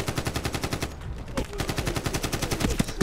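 Rapid automatic gunfire in the Medal of Honor video game, a dense, loud stream of evenly spaced shots that barely pauses, briefly dropping off about a third of the way through before resuming.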